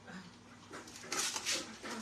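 A pet dog whimpers and whines near a door, wanting to go out, with a few short soft whines and yips close by and fairly quiet, with no one speaking.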